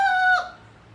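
A rooster crows once, a loud close call with a strained high tone that cuts off abruptly and leaves a faint hum behind it.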